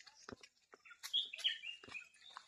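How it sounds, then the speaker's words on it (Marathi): Wild birds call along a small forest footpath with karonda shrubs, a few bright chirps and short tweets scattered over a quiet background, close and moderately clear, with no talking. "पक्षी मस्त ओरडतात."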